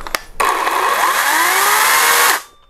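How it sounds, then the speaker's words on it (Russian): An Interskol cordless chainsaw revs up loudly and runs steadily at high speed for a couple of seconds, then cuts off. "Пила стала работать."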